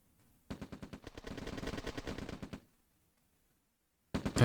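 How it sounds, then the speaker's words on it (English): Rapid rattling rifle fire from a Ranger picking off rifle guards in OpenRA Red Alert, a sustained burst of closely spaced shots lasting about two seconds, then silence before another short volley begins. "And the Ranger's picking off my rifle guards"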